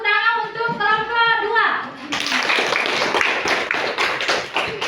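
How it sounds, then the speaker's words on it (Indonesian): Classroom applause for a student group, a sustained voice first, then a loud, dense burst of children's clapping close by with quick uneven rhythm. "tepuk tangan untuk kelompok"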